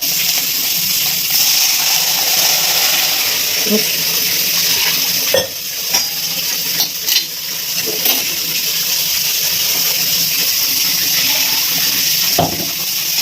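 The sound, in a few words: water coming to a boil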